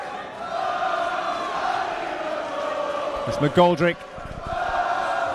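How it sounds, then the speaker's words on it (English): A boxing crowd roars steadily during the 11th round of Sean McGoldrick vs Scott Allan, a loud arena swell running beneath continuous commentary. "Well, the crowd are up again"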